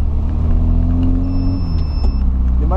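Engine of a VW Voyage, the old boxy model, held at high revs against the rev limiter, a loud steady close rumble with tones that climb and drop as the limiter cuts in, no voices.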